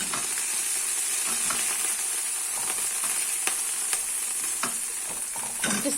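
Beef for stroganoff sears in a hot pan with a continuous close sizzle and hiss. Occasional sharp ticks and scrapes from stirring break through it, with no talking.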